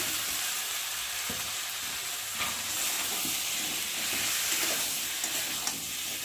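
Chopped ridge gourd fries in oil in a pan with a steady close sizzle and hiss, with occasional soft stirring scrapes and no talk.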